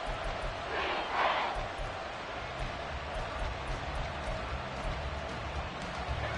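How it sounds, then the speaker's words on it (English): A stadium crowd in the Madden 24 football video game cheers as a steady, broad roar that swells briefly near the start and then holds, with no clear voices over it. "Crowd getting in it a bit already."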